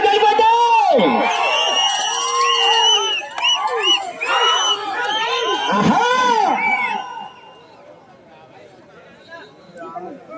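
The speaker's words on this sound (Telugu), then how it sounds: "ఒక్కసారి గట్టిగా కేకలు వస్తే" A crowd at a bull contest on a school ground in Jammalamadugu shouts, whoops and cheers loudly and close by for several seconds, then fades to scattered calls.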